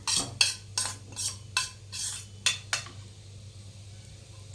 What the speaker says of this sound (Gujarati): આપણે બધું મિક્સ કરી દઈશું.